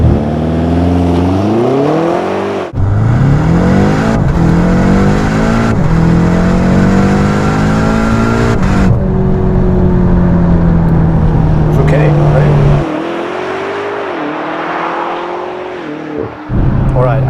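BMW M8 Competition launching hard under launch control, the loud engine roaring up through repeated rising revs with sharp breaks at each gearshift, then easing off near the end; speech is faint or absent.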